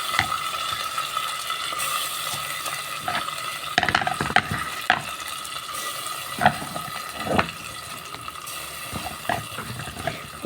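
Rice stirred in a pan with ghee and oil, producing soft sizzling and irregular scraping and clinking of a spoon against the pan, moderately quiet and close.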